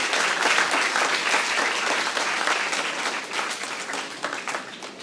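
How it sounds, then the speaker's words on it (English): Audience applause at a university journalism department memorial lecture, a dense sustained burst of many hands clapping that fades slightly toward the end. "Please clap for them."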